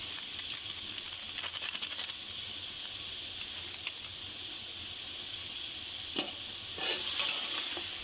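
Biryani masala stirred into a pan of frying food, a faint steady hiss and sizzle with occasional scraping strokes and a brief louder hiss near the end, no voices.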